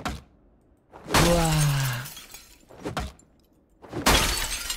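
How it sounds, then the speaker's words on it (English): Glass breaking in the video game Project Zomboid: several loud, sharp shattering bursts come in separate waves, each one followed by a short tinkling tail. Brief quieter gaps fall between the breaks, and no talk is heard. "I wonder if it'd be fun if I just broke some glass."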